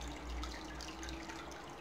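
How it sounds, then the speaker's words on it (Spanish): An aquarium filter runs at maximum flow, pushing water in a steady wash of splashing and bubbling with a faint hum underneath, fairly quiet and continuous with no one speaking. "ahora está al máximo de agua, da un buen caudal"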